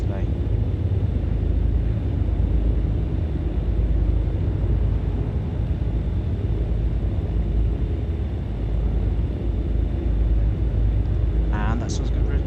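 A small airplane's engine idles before taxiing for a short runway hop from St Barts to Saba, a loud steady droning rumble heard close from inside the cockpit, with a brief chirp near the end.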